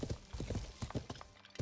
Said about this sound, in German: Ah, und hier kommt ein Pferd daher galoppiert.